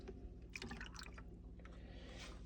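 Water is poured into a small metal dish in a kitchen, giving a close, quiet trickle with light splashing and a bright ringing tone from the metal, fading into a soft hiss.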